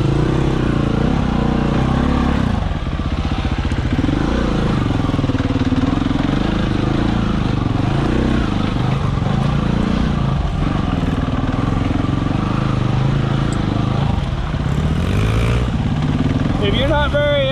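Enduro motorcycle engine revving and labouring as the bike climbs rocky ledges, a steady loud drone with rising and falling pitch that stays close throughout, with a brief talking voice near the end.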